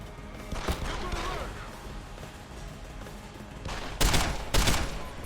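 Gunfire in Deus Ex: Human Revolution, a few sharp gunshots with one early and a close pair of loud bursts near the end, over faint background game ambience.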